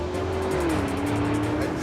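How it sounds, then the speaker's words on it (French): A Porsche Cayenne Coupé Turbo S E-Hybrid with electric motor and petrol V8, 680 hp, accelerates hard with a steady loud engine drone whose pitch dips slightly as it shifts, heard from close by. "Moteur électrique et V8 essence, ça envoie."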